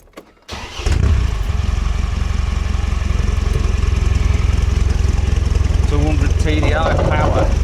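Land Rover 90 TDI diesel engine cranking and catching after a short quiet moment, then settling into a loud, steady, close rumbling idle, with a voice briefly heard near the end.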